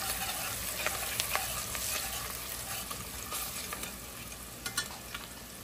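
Curry powder frying in a pot while being stirred continuously, a steady close sizzle with scraping spoon strokes and occasional sharper clinks, no voices.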